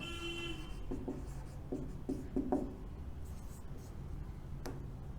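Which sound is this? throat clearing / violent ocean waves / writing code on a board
writing code on a board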